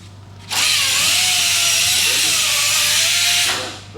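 Powered ratchet loosening a bolt on a 2024 Ford F150 4x4 5.0L during a header install: one loud continuous whirring run of about three seconds whose pitch wavers slightly, close and alone.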